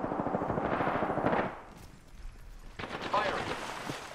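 Bursts of automatic gunfire in Apex Legends during a fight inside a house, dense rapid shots for over a second, then a lull and renewed scattered firing, with game voices mixed in.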